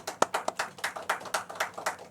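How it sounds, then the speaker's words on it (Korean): A church congregation at a Sunday morning worship service claps in a steady, rhythmic pattern, about a dozen sharp, evenly spaced claps in a little over two seconds, fairly close and loud, with no voices over them. "박수 한번 쳐드려야 됩니다."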